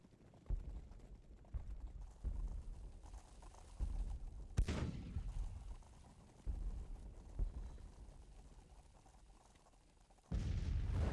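Units in the strategy game GTCW fire in scattered, booming reports, one heavy blast standing out midway, others spaced irregularly with rumbling low tails over a quiet battlefield backdrop.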